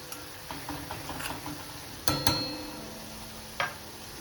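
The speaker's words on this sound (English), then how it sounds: "Now let this fry well" Everest chole masala frying in a pan gives a steady low sizzle with light stirring taps and a few sharp metallic clicks from the utensil against the pan.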